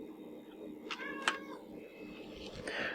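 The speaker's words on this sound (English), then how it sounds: "And sometimes there's a cat." A domestic cat meows twice or three times at close range in a quiet room, short rising calls spaced about a second apart, with a faint low background hum.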